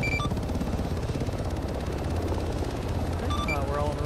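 Helicopters lifting off a runway in a video game: a loud, continuous rotor thrum and engine roar fill the clip, with brief electronic beeps near the start and end and a voice talking over it.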